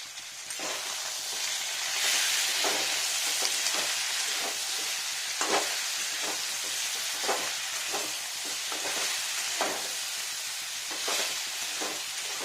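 Salted vegetables for niramish sukto, including bitter gourd, brinjal, raw banana and potato, fry loudly in a pan, a dense continuous sizzle with periodic stirring scrapes, close up and without any talking.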